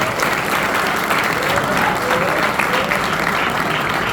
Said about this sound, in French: si tu veux applaudir, applaudis bien